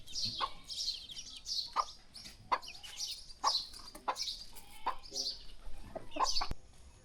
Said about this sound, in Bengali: বিশাল একটা মোরগ আছে